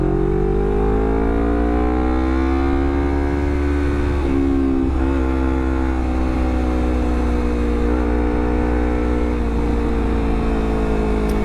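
A Honda CBR250RR motorcycle fitted with a WRX GP3 aftermarket exhaust revs steadily, its engine note rising and holding with small dips, loud and close with no talk.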